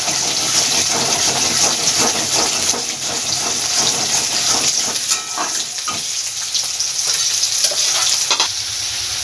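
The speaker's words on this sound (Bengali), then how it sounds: "এবার সামান্য একটু জল দিয়ে দেব মশলাটা যাতে না পড়ে" Water poured into a hot pan of spice masala for moong dal, a steady loud sizzle and hiss with stirring scrapes throughout, fairly close, and no talk.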